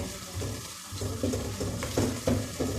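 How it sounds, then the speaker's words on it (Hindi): Onions browning in a frying pan for Sindhi chicken biryani, with a steady close-up sizzle broken by repeated stirring scrapes at a loose, regular pace. "अब प्याज ब्राउन करेंगे।"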